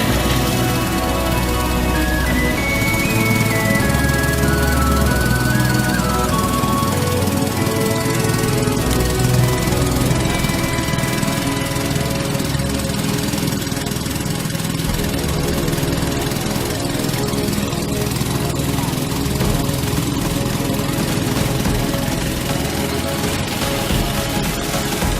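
A gasoline engine driving a 3-inch pump on a two-spout canal watering boat, a loud, continuous close-up engine drone with rapid knocking pulses that holds steady for the whole stretch, with no voices.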